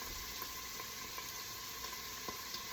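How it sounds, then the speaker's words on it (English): Shallots, garlic and celery sautéing in a soup pot give a steady, close sizzle and frying crackle with faint stirring, alone without voices. "we just throwing it all in there because I want all this sauteed"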